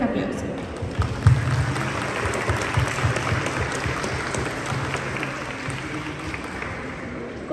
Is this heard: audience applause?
yes